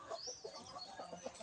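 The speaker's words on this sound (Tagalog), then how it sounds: "Dahil po itong mga manok na to Agaw ay nangingitlog pa rin po hanggang sa ngayon" Egg-laying crossbred hens cluck softly nearby, a quiet run of short, irregular clucks and murmurs.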